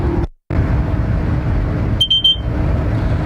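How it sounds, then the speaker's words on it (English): Train cab's VACMA driver vigilance alert sounding over constant low cab rumble, a short high electronic tone with a couple of quick pulses, close and clear after a brief drop-out. "That noise you just heard was a system called a VACMAR"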